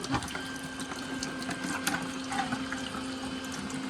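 Water drains out of an Aqua Pure whole-house filter housing into a bucket while the system is still on. The flow runs as a steady, continuous rush and splash, close and moderately loud, with no talking over it.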